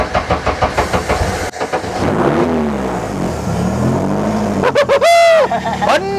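A Honda car with a touchscreen dash, its engine revved in neutral in a garage, giving rhythmic throttle blips and rising, falling roars, loud and close, with voices now and then.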